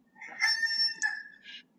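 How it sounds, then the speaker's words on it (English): A rooster crows once, a clear drawn-out cock-a-doodle-doo at moderate distance, followed by a brief cluck-like note and a short knock at the end, with no talking. "You heard that rooster."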